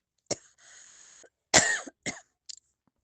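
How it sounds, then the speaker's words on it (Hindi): A close burst of coughing from a woman during a spiritual gathering: one sharp cough, a raspy throaty stretch, then a harder fit of coughs trailing into a few small ones. "एकदम से मेरे को खांसी का धसका उठता है जब सत्संग करती हूँ"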